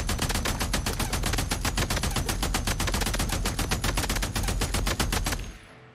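Rapid automatic gunfire in the video game Days Gone, a dense burst of evenly spaced shots fired continuously for about five seconds, loud and close, cutting off with a brief fading tail.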